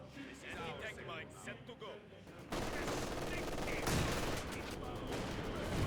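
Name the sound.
machine gun fire in a World War II strategy video game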